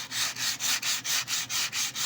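Wood is sanded by hand with 120-grit sandpaper, a quick, even rhythm of rasping strokes, about four per second, close and alone.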